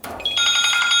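A phone rings loudly and close by with a bright electronic tone that warbles steadily through the whole moment.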